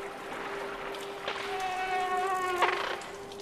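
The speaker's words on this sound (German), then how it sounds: "Eine Fliege." A fly buzzes in the side-scrolling video game Limbo, a thin steady drone wavering in pitch for a couple of seconds over quiet ambient background, close and moderately loud.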